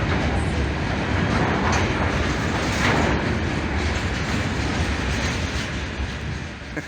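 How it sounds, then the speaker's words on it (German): A train passes through a Siberian railway station with a loud, steady rumble and rolling wheel noise that carries on without a break. No one speaks. "Und das ist mein Zug."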